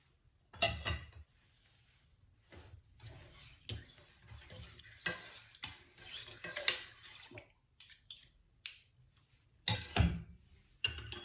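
Batter for a honeycomb cake being mixed in a bowl, with irregular close stirring, scraping and clinking of a utensil against the dish, intermittent with short quiet pauses.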